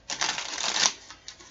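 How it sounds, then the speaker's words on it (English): Tarot cards being pulled and shuffled make a quick, soft riffling flutter, several close crisp bursts over about a second, followed by a faint single flick. "Let's pull some cards here and see"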